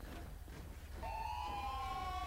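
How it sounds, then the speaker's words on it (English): A police siren from the video game GTA V with the LSPDFR mod starts after about a second and wails on steadily, fairly faint over low road rumble. "Jesus, that siren!"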